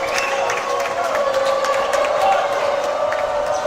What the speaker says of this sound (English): Austria giving applause to the crowd